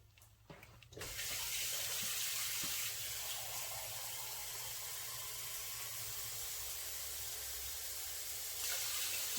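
Water gushes steadily into a cooking pot from a tap for chicken tikka masala, a constant hissing splash that starts abruptly after a second of quiet and keeps going, close and fairly soft, with no talking.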